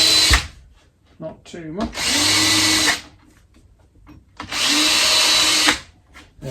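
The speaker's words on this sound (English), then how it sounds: "the other thing I'm going to do is countersink the holes" A power drill countersinks screw holes in wood, giving two loud, close whining bursts of about a second each, with a brief voice speaking between them.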